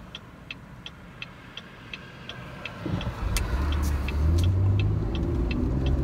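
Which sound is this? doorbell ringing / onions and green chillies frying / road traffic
road traffic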